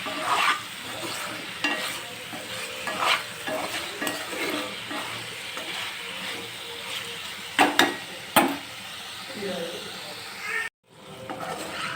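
Chicken fry being stirred in a sizzling pan, cooked without water, giving continuous close frying hiss with repeated scraping stir strokes and a few louder clatters before a brief cut.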